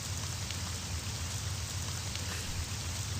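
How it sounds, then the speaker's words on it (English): Drizzling rain in a forest-themed video game, a continuous even hiss of falling drops at steady loudness with no voices. "In a drizzle, rain continues to fall."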